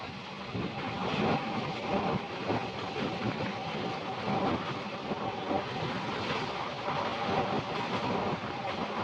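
Steady, loud rumble and rattle of the Siliguri–Katihar Intercity Express running at night, a continuous roar of wheels and carriages with faint rhythmic clatter and no voices.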